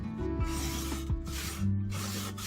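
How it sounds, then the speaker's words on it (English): A damp cloth rubs and wipes excess antique wax off a Dollar Tree craft surface, giving steady close-up scrubbing strokes with a few louder swipes, heard on its own. "then with a damp cloth I wipe out the excess before it dries"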